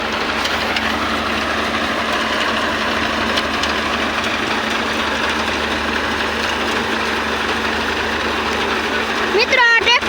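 A Massey 35 tractor engine idles at a threshing spot, giving a steady low drone with a constant hum throughout, followed by a brief burst of louder noise at the very end.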